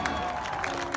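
A protest crowd outdoors applauding and cheering the National Guard, a dense wash of clapping and voices that stays steady and fairly loud for about a second.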